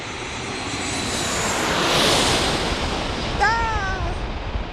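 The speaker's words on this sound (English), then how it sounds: "looks like we got a Max coming in from Alaska Airlines" An Alaska Airlines Boeing 737 Max jet landing in San Diego makes a broad jet roar that swells and then fades. A brief exclamation cuts in near the end.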